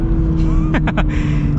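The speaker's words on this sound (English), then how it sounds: "Oh, yeah, those downshifts are like perfect." A 2023 Subaru BRZ Limited with a manual gearbox downshifts under a steady engine hum. Three quick rev-matched blips come close together, and the engine pitch sweeps up and down with each shift.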